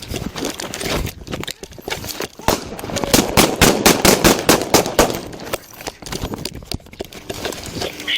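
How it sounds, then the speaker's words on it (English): Gunfire breaks out during a police foot stop in Tennessee, a rapid, loud volley of sharp repeated shots clustered in bursts, with shouting around it. "Shots fired, shots fired."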